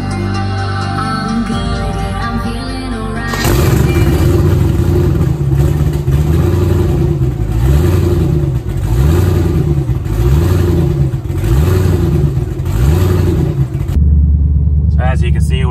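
A twin-turbo Pontiac G8 car accelerates hard, its engine note climbing through repeated rising sweeps as it pulls through the gears, loud and close from inside, after a quieter idle start.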